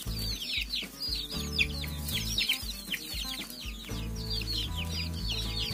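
A flock of farm chickens clucks busily while pecking at bananas, with quick, overlapping calls close by over a low droning background.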